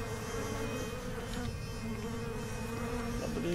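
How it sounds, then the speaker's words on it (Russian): Flies buzzing loudly and continuously in a horror video game, a close, dense insect drone with no speech over it. "А вот еще мухи."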